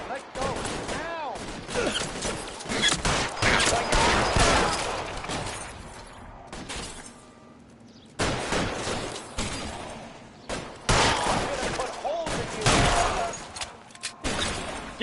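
Gunfire rings out in the video game L.A. Noire, with rapid volleys and single shots arriving in dense bursts separated by short lulls, loud and close, with shouting voices mixed in.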